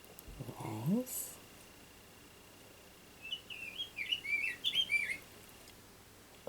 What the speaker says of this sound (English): I can hear that bird real clear